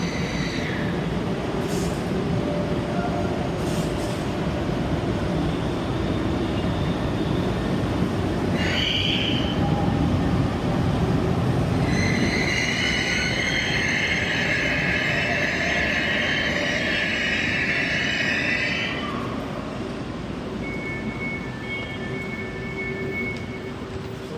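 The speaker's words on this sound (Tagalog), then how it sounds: "LRT papuntang Carriedo." LRT light rail train bound for Carriedo station in Manila, rumbling steadily with a high metallic wheel squeal rising midway and a brief screech near the end, heard from inside the car without talk.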